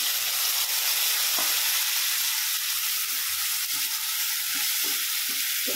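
Shernya vegetable tipped into a hot pan with chili powder, met by a loud, continuous sizzle and hiss, with a few faint taps of stirring.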